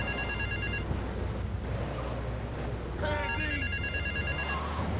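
A telephone rings with repeated electronic bursts in the video game GTA III, its ring sitting at moderate level over a steady ambient background before and after a brief pause.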